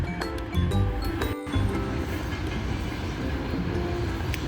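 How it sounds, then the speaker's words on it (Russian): A train rolls over a river bridge near Chikali station, a steady rumbling clatter with rhythmic wheel clicks and metallic squeals, fairly close and continuous. "Поезд едет через речку."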